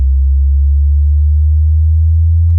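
A steady sine-wave synth tone generated in Ableton Live, sounding low and pure with a gradual upward pitch bend, loud and alone without any voices.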